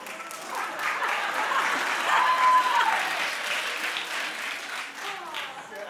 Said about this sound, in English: I don't know why they're clapping, Juliana.